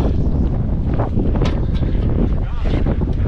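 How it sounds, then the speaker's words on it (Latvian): Heavy wind buffeting the microphone with loud, gusty rumbling throughout, rough and close. "Bet vējš būs gan nepatīkam šeit"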